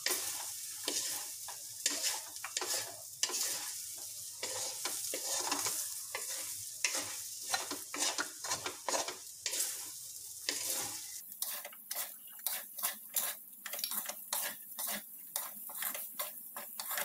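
Miki egg noodles are sautéed in a pan for miki gisado, with a steady sizzle and repeated spatula scrapes and stirring clinks up close, then quieter stirring as the heat drops.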